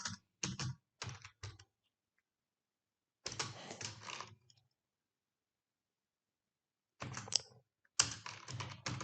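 A folder name is typed on a computer keyboard for a Tally export, heard as clustered bursts of keystrokes separated by pauses, close and fairly quiet with no talking.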